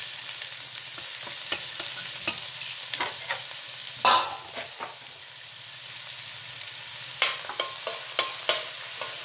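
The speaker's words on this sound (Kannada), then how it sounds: "ಈರುಳ್ಳಿ ಚೆನ್ನಾಗೆ ಫ್ರೈ ಆಗಬೇಕು" Chopped onions and chilies frying in oil for spicy okra gojju give a steady sizzle, broken by sharp scraping stirs and a louder splash near the middle, close and without any talk.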